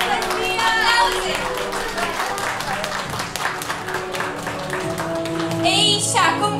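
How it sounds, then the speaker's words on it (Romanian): Applause and clapping from a celebrating crowd at a Romanian party honoring Anastasia's birthday, sustained and fairly loud over music and chatter throughout. "Aplauze pentru Anastasia! Aplauze!"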